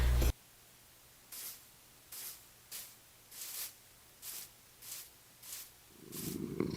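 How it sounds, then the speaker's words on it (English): A cat purrs in the Minecraft video game, with about eight evenly spaced breathy purr pulses, loud and close over near silence, before a burst of rising noise at the end. "Why is his purring so loud?"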